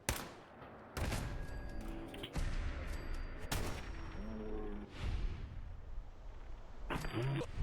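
Gunfire and explosions in a Fallout game: several loud bursts and bangs at irregular intervals with metallic clicks and rattles between them, no speech.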